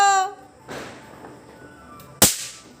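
A Diwali firecracker bursts during Kali Puja celebrations as a single sharp, loud crack close by, near the end, after a stretch of quieter background with a brief tonal sound at the start.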